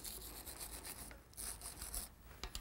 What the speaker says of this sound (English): take a wire brush and clean the threads of the stem